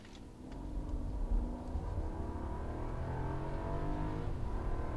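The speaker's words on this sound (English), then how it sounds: "you can hear this aggressiveness of the engine now. At higher revs, you can definitely hear it." A 2022 Rolls-Royce Ghost Black Badge in low mode pulls hard under full acceleration, its engine note climbing through the revs with a smooth, steady roar and a brief dip at a gear change, loud and close with no talk.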